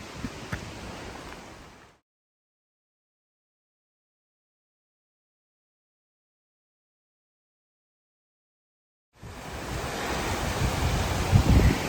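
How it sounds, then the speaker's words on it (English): Loud gusting wind on a wilderness hiking trail roars against the microphone, cut by a long silent gap before the blustery rush returns even stronger. "But man, that wind was brutal."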